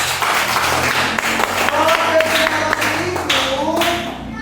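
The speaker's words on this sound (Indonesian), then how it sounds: "Ya, tepuk tangan" Students in an elementary school classroom clap their hands together, a short burst of mixed, uneven claps close by, with a voice rising over the clapping midway.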